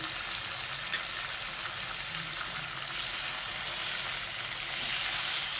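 Green chillies, ginger and garlic frying in oil for butter chicken karahi, a steady close hiss of sizzling that swells slightly toward the end, with no voices.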